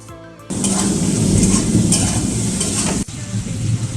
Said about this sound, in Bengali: আর একটু ভালো করে কষিয়ে নিই।